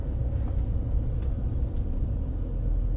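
A 2004 Nissan Titan pickup's engine running, heard as a steady deep low rumble with road-like drone and a few faint clicks or squeaks above it, no speech.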